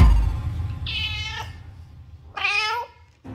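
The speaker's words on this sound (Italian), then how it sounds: "Il gatto Decibel sembra stordito dalla stanchezza dell'ennesimo pisolino." A cat meows twice, close by, with a short pause between the two drawn-out cries.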